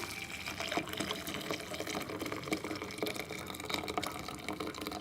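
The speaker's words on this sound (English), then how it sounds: "I'm gonna just pour the beans in there" Cooked black beans and their liquid are poured through a strainer into a bowl, a continuous close splashing gush of liquid with no speech.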